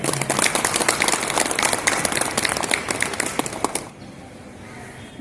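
Audience applause at a Lions club charter handover and installation ceremony, dense clapping for about four seconds before fading to quieter room noise, with some talk mixed in.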